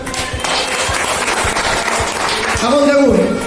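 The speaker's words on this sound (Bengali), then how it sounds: "এবার হাততালি হয়ে যায়।" An audience at an RCM business meeting claps in a dense, continuous wash of applause, close and loud, with a voice rising briefly near the end.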